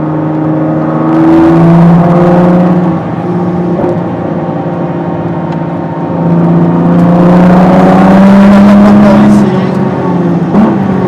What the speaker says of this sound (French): Tout ce tour de warm-up aussi pour mettre la voiture en température.